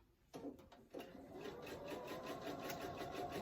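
A sewing machine stitching a tissue box cover starts with a few short stuttering bursts, then settles into a steady rapid mechanical whir, close and quiet.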